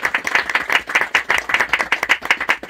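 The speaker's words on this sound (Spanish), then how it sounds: "Un fuerte voto de aplausos para el señor." Audience claps after a Quechua coca leaf ceremony, an offering to the Pachamama; a modest group's loud, close hand claps, individual claps distinct in an uneven rapid patter throughout.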